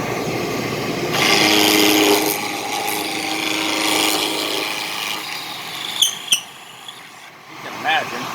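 A shop vacuum feeding a dust separator and an overhead blower roar steadily in a woodworking shop while pine lanterns are built, a broad continuous noise with scraping tool work and a few sharp knocks over it.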